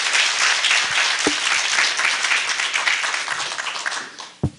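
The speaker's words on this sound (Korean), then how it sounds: "뜨거운 박수로 환영해 주시기 바랍니다." Sustained audience applause fills a welcoming moment at a university celebration marking the relocation of the KU-KIST convergence graduate school, dense and steady throughout before tapering near the end.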